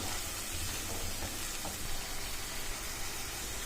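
Vegetable curry with chili powder, salt and curd fries in oil, giving a soft, steady sizzle with faint bubbling and occasional stirring, quiet and close with no voices.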